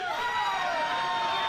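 A wrestling crowd roars in a raucous ovation as a wrestler called Doomsday makes his entrance, a steady, loud wash of cheering with whistle-like tones over it and no break.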